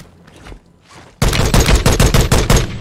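Rapid video-game gunfire from an enemy shooting at the player in a battle-royale match bursts in suddenly after a quiet start, a loud, close string of evenly spaced shots that keeps rattling to the end.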